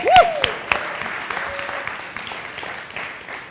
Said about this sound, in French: on peut donner une belle main d'applaudissement au Canada